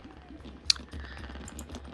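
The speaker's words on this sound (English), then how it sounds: "If we just zoom in, it's just gunfire." Gunfire in the strategy video game Realpolitiks, a few faint, sharp cracks and short bursts scattered over a quiet, muffled background.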